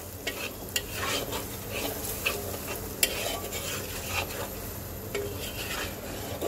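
Ground coriander and turmeric get stirred into hot oil in a pan with a steady sizzle and scraping spoon strokes, including a sharp clink near three seconds, for a mustard hilsa dish.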